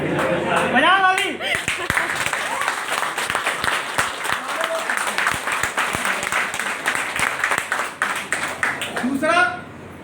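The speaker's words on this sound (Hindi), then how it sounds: "आपको ताली इस मीटिंग के लिए क्यों बजानी है?" An audience at a talk claps hands, a dense burst of applause that swells and carries on for several seconds while a voice chants or speaks briefly at the start and end.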